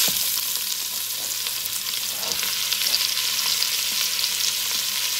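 One large onion fries in a pan for birria-style beef short ribs, a steady bright sizzle close up with a few soft scrapes and no voices.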